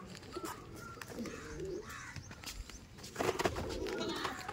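Madrasi pigeons coo softly in a loft, low burbling calls repeating at a distance amid faint background noise and a few brief clattering sounds.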